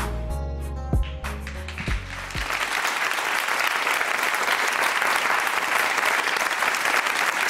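Audience applause after a talent show performance, entering as a song's last notes fade and swelling into loud, continuous clapping from a large crowd.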